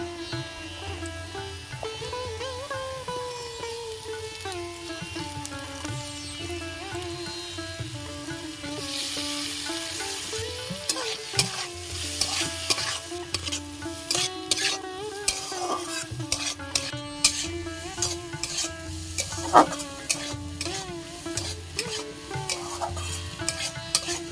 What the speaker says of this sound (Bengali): দেখো সবকিছু সবজি দিয়ে নেড়ে চেড়ে নিয়েছি